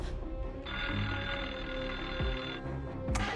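A telephone rings with a steady electronic tone that holds for about two seconds, followed by a brief click, fairly close in a quiet room.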